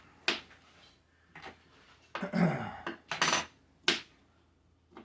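Knife working through leftover smoked venison and ham on a board, giving several separate clicks and scraping strokes with a longer rasping cut in the middle, close and fairly quiet, with no talking.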